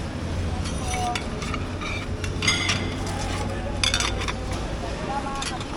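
Plates being handled among salvaged dumpster-dive items, with repeated light clinks and clatters of dishware knocking together close by against a steady background hum.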